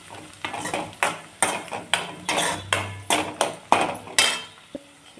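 Metal utensil scraping and tapping against a frying pan while mixing peanut powder and turmeric, about ten rhythmic clanking strokes close up, with no talking.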